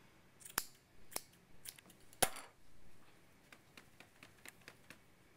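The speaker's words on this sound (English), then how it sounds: "just take your scissors and trim up those pieces" Crisp scissor snips trimming a yarn pom-pom, a few sharp loud cuts followed by quicker, softer trimming clicks, all up close with no talking.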